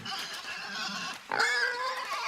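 Pig oinks and grunts in a 2016 video game, a steady run of snorting squeals that swells louder partway through, close and alone with no talk.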